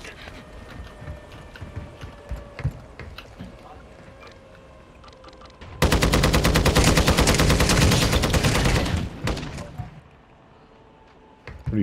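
Dense sustained automatic gunfire in a first-person shooter game, a loud continuous burst lasting about four seconds after quieter scattered game sounds, with brief speech nearby.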